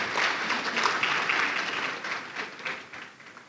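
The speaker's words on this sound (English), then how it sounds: "I thought students would clap for this one" Students applaud at an international e-learning conference, a dense, steady burst of many hands clapping together that tapers slightly toward the end, with no voices over it.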